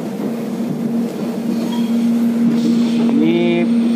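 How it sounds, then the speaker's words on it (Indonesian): Riding inside a moving Soekarno-Hatta airport rail link electric train near Jakarta: a steady electric motor hum over rolling rumble, with a rising whine near the end. "dua kalinya naik kereta bandara"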